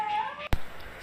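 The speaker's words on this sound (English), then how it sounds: "That cat is in distress." A cat in distress gives one short, sudden cry, close and fairly loud, cutting through a faint background hum.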